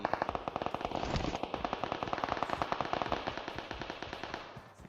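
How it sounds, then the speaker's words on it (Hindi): Rapid automatic gunfire in PUBG Mobile rattles continuously for several seconds, dense and loud, with sharp overlapping bursts and no voices. "अब उधर गोलियां चल रही हैं धक्का पेल करके"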